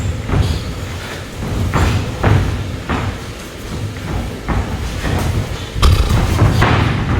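Heavy thuds of grappling takedowns hitting the mat during a submission grappling event, several dull impacts spread across the stretch amid scuffling and gym noise, fairly loud and close.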